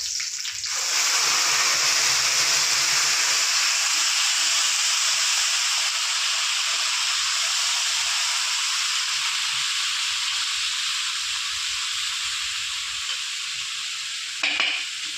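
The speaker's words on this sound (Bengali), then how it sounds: "কিছুক্ষণ মশলাটা একটু কষিয়ে নেবো, যতক্ষণ কাঁচা গন্ধটা না যাবে ততক্ষণ মশলাটা ভালো করে কষিয়ে নেব" A paste of ginger, onion, garlic, green chili and tomato hits hot oil with cumin seeds in a pan for a prawn, potato and papaya curry, bursting into a loud, steady sizzle that slowly fades over time.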